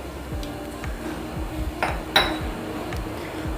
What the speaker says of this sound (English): Keep on stirring this so that no lumps are formed.